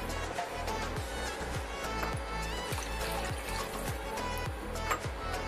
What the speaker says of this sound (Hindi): इसमें अब हम 2 कप पानी डालेंगे